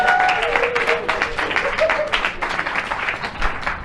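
Comedy club audience applauding at a stand-up show, a dense wash of many hands clapping that carries on steadily with crowd noise and a few voices mixed in.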